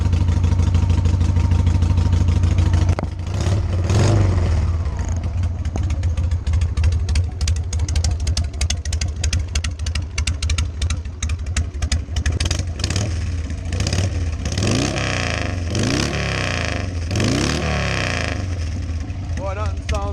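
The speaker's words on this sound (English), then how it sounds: "Boy, nothing sounds like them drag pipes." A Harley-Davidson 883 motorcycle with drag pipes and a rebuilt carburetor idles with a lumpy rumble, then revs up repeatedly in loud, close blips, while someone talks over it.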